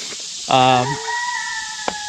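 A rooster crows once nearby in a chicken coop, loud and drawn out, followed by a quieter lingering call and a brief click.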